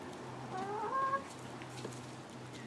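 Backyard chickens eating cut-up grapes give a few soft, close clucks and squawks over a low steady hum, then settle into quieter pecking sounds.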